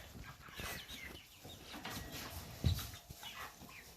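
Chickens cluck softly nearby over faint outdoor background noise, with one sharper squawk partway through.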